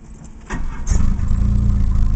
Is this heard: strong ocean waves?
no